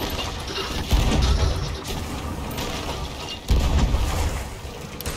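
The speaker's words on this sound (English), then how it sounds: "Spam cannons! Spam cannons!" Ship cannons fire from a sloop during an arena battle in Sea of Thieves, two heavy booming blasts about three seconds apart over a steady clatter of creaking, grinding mechanical noise.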